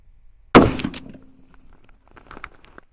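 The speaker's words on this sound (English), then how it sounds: "Take 1 shot, make sure it's a good one." A single sharp rifle shot rings out at a 100-yard range while a scope is being zeroed, followed by a brief fading ring and some faint clicks and handling noises.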